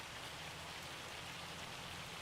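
Hail falling in the farming video game Farming Simulator 25, a steady dense hiss of pelting ice across the whole stretch, fairly soft and unbroken with no voices.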